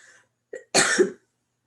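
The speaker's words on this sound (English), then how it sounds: "Sorry for my cough, by the way." A single close cough, short and sharp, preceded by a small catch of breath, then silence.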